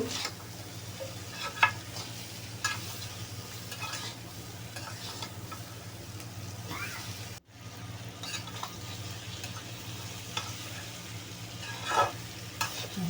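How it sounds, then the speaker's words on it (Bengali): Sliced bitter gourd frying with shrimp in a pan while being stirred, a low continuous sizzle broken by occasional scraping clinks of the utensil, fairly quiet and without speech. "এখন দিয়ে দিলাম কেটে রাখা করলাগুলো একটু নাড়াচাড়া দিয়ে দিব"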